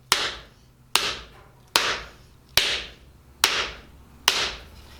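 Six evenly spaced hammer blows striking a blade while forging its bevels, each a sharp, ringing metallic strike that decays quickly, arriving at a steady slow rhythm, close and clear with no talking.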